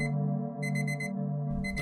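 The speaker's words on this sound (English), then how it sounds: "Simon woke to the sound of the alarm." A morning alarm clock rings with a steady electronic tone broken into repeated short beeping pulses, close and moderately loud, with no voices.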